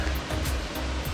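Steady roar of Bomburu Ella waterfall in Sri Lanka, a dense broadband rush of falling water close by with a low rumble underneath, heard alone without voices.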